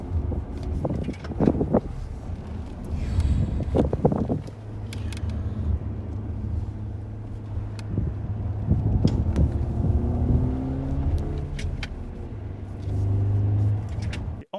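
A Lexus car engine runs and revs, a low steady drone with throttle swells near the start and toward the end, close and alone with some wind noise.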